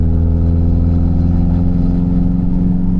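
Classic car engine fed by SU carburettors, pulling under light throttle with a steady, loud, low droning rumble that holds throughout from inside the car, no voices.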